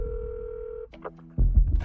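Keys are pressed on a phone keypad, a steady two-tone beep followed by shorter dialing tones, then a loud thumping handling noise near the microphone, with no talking.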